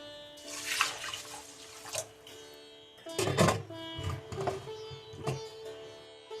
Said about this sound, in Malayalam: ഇതിലേക്ക് നമുക്ക് അല്പം വെള്ളം ഒഴിച്ച് വേവിക്കാൻ വയ്ക്കാം.